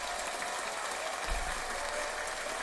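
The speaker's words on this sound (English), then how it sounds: "Give it a round of applause." A crowd applauds during a talk show episode. The broadband clapping is steady and fairly faint, with no talk over it.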